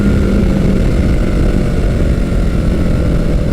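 A 1983 Kawasaki GPZ 1100 motorcycle engine pulls hard under acceleration on a test ride, a loud, steady, close-up drone with wind rush that holds for several seconds with no speech.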